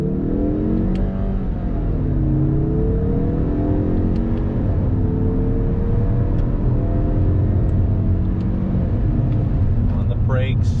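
A 2021 Mazda 3 Turbo engine revs up from a standstill with manual shifting, climbing through the gears with rising pitch, loud and close, with a short squeal near the end.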